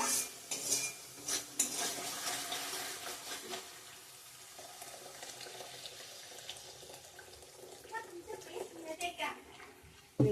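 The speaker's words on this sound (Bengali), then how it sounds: "গরম জল অ্যাড করব এখন গ্রেভির জল" Hot water is poured into a pan of rui fish gravy made with mustard and tomato paste, with splashing liquid, a spoon clinking and stirring against the pan, and soft sizzling, all fairly quiet.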